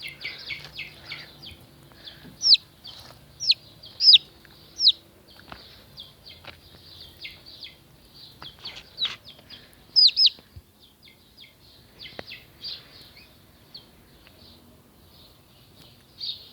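Small young chickens in a garden give soft chirps and peeps, scattered and intermittent, with a few louder calls over a quiet outdoor background.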